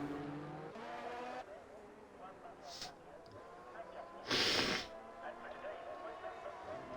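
Racing car engines in a sim racing league race at Austria, a video game, droning and whining close by with a brief louder pass, while commentators talk over them.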